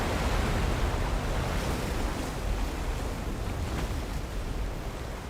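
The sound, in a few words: gushing water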